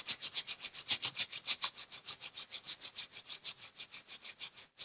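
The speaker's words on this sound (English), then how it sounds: "And then rubbing the palms together." Palms of the hands rubbing briskly together in a steady, rapid back-and-forth rhythm of soft, dry swishes, close and alone, during a relaxation exercise.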